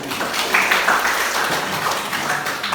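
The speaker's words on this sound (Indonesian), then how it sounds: "berikan aplaus pada diskusi" Applause from a classroom audience after a class discussion, a steady wash of many hands clapping throughout, with faint voices underneath.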